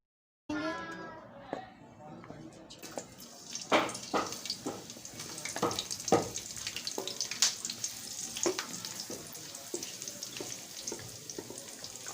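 Spices fry in hot mustard oil in a kadhai for instant pickle, starting with a sharp burst of sizzling that settles into steady crackling and popping, with a voice speaking over it.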